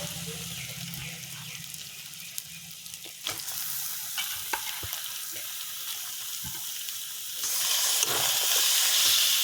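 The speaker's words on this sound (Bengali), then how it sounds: "মাংসগুলোকে দিয়ে এখন আমি একটু কষিয়ে নেব" Meat frying and being stirred into oil-rich spice masala in a pan, a steady sizzling hiss with scattered scraping clicks of the spoon, swelling louder toward the end; no talking.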